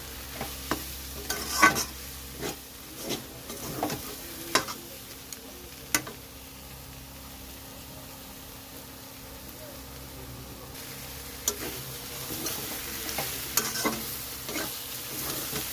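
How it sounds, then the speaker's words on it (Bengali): Leafy greens sizzle in a frying pan while a utensil scrapes and stirs in sharp, irregular clacks, the frying hiss steady underneath and stirring pausing for several seconds midway. "শাকের জলটা শুকিয়ে গেছে দেখুন এরকম ভাজা ভাজা হবে"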